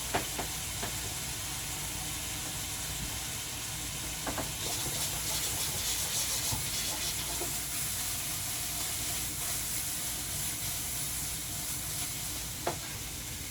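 A tomahawk steak sears in a hot pan with a steady, loud sizzle and hiss running throughout, with faint scrapes and light clicks surfacing now and then and no talking.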